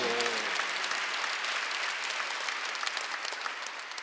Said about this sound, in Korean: 믿는 사람만 박수합니다